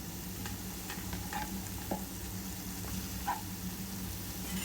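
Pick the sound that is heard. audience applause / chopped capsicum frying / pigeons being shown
chopped capsicum frying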